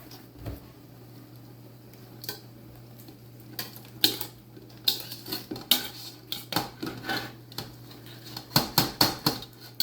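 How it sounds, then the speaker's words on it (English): Jalapeno peppers dropped into a pot of boiling brine, a run of close clinks, taps and rattles of metal against pot that grows busier toward the end, over a low steady hum. "it's time to add all of these peppers in here"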